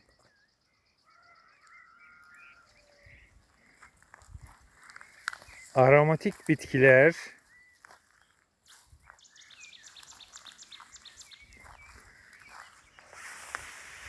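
Birds call and chirp outdoors among wildflowers in Kastamonu, Turkey, at moderate distance, with a person speaking briefly in the middle and faint rustling steps.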